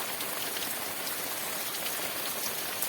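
Heavy, continuous monsoon rain falls on Konkan paddy fields, a dense and steady hiss of countless drops with no gaps and no voices.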